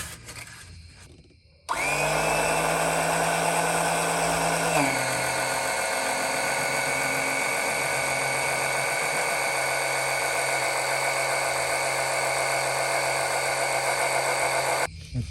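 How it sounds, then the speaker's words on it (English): A battery-powered pump whines steadily while filling a BMW with transmission fluid, starting abruptly after a quiet moment, dropping slightly in pitch a few seconds in, then droning on loud and continuous until it cuts off. "Our pump's here. Trying to pump it in"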